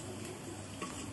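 Garlic frying in a pan for a pasta dish, a steady close sizzle with faint stirring and a light scrape, no talking.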